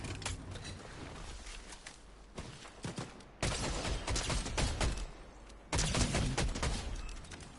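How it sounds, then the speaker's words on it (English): Rapid bursts of video game gunfire in a battle royale match, clustered volleys that cut in loudly and then stop, with a mechanical clatter between them. "You hear some gunshots on that side"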